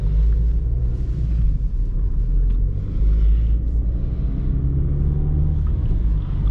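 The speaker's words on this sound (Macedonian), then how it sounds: "Еве една Алфа Ромео Мито што ме претицува." An Alfa Romeo MiTo overtaking on the road, heard from inside another car as a steady, loud low engine and road rumble with no clear pass-by swell.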